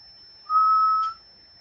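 A glass carboy of fermenting mead gives off a single steady whistle of about half a second, fairly loud and clear, rising out of a quiet room with no talking.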